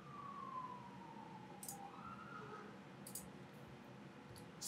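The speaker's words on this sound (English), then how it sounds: "forgive the sirens." A distant siren in the UK wails faintly in the background, its pitch sliding down and then rising again over a steady low hum, with a few scattered clicks.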